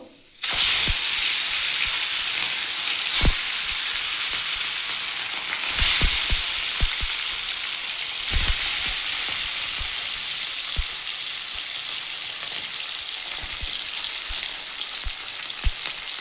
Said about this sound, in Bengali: তেলটা গরম হলে আমি বাটা মাছগুলো ভেজে নেব